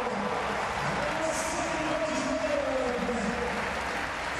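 A home crowd at a UCI Track World Cup velodrome race in Manchester cheers and applauds a win, a dense, sustained roar of clapping and voices heard at a distance with a commentator talking over it.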